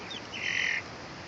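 A chicken being held gently lets out one brief, faint squawk against low background noise.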